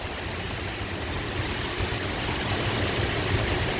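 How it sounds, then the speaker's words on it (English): Strong wind from an unforecast thunderstorm in far northwest Kansas, heard from a covered back porch, roars as a dense, continuous rushing noise with low buffeting rumble, loud and close throughout. "Can you hear the wind?"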